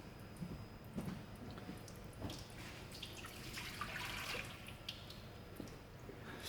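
Water being emptied out of a container during a Boys' gas calorimeter lab experiment, heard as a steady trickling and dripping splash that runs throughout, close by and moderately quiet, with no voices.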